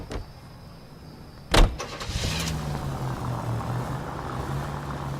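A car door thumps shut in LA Noire, then the car's engine starts and settles into a steady, close rumble that carries on to the end.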